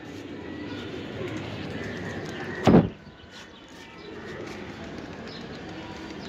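Saharanpuri pigeons coo softly in a loft amid a low murmur of background noise, broken midway by a single sharp knock before the quiet hum resumes.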